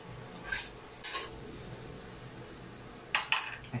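Garlic tipped into a pan of lightly browned onion for a clam pasta, with a few distinct clinks of utensil against pan and soft scraping stirs, spaced out and fairly faint, with a quiet stretch in the middle.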